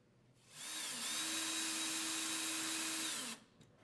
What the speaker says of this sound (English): Preset 4 Type A number 10 by 1 inch screws by partially tightening them into the pilot